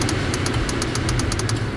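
A 2016 Porsche Cayenne engine runs after being started with its keyless twist dongle, giving a steady, close, low rumble with a rapid light ticking on top, and no talk.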